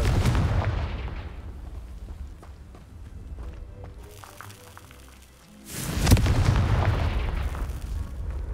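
In the Hogwarts Legacy video game, a Confringo fire spell detonates as a sudden booming blast with a long rumbling decay, set among game ambience, muffled impacts and footsteps.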